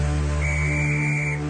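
A train conductor's whistle gives one long, steady, shrill blast lasting about a second, standing out clearly over a constant low background hum.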